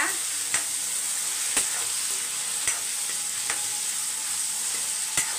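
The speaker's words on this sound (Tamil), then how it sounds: "இப்போ வெங்காயத்தை வதக்கி விட்டுக்கோங்க." Onions with curry leaves sautéing in a pan, giving a steady bright sizzle close by and regular light taps of a spoon against the pan about once a second.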